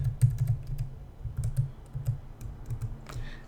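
Rapid clicks of computer keys being typed at a steady, uneven pace, close and fairly quiet, with no voices over them.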